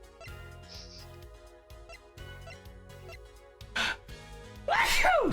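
A voice actor performs a loud, forceful sneeze during a live dub of the courtroom game Apollo Justice: Ace Attorney, a sharp burst rising out of quieter game music and sound effects near the end.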